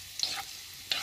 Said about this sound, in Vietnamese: Ram cái phần tim gan đó trước ha.